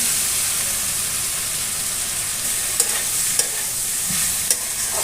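Fried vegetables stirred into a fish-head chhachra in a hot pan, giving a constant loud, close sizzle with a few faint clinks of the spatula and no voices.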